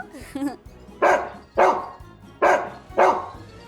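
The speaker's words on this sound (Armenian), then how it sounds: "Շուն։" A dog barks four times in a steady rhythm, loud and close, after a brief higher yelp at the beginning.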